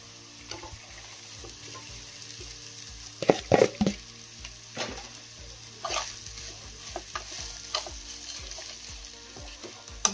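Poha with turmeric stirred and fried in a home kitchen pan: soft sizzle with scattered scraping stirs and a few louder clatters, no talking.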